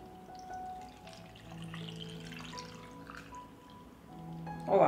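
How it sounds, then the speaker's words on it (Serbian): Salted whey is poured into a glass jar, a steady liquid pour with light dripping that runs throughout and grows louder near the end, with no talking. "I sada ću surutku sipati u teglu."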